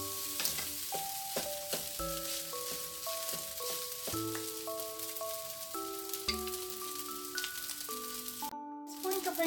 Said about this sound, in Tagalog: Haluin lang natin mabuti.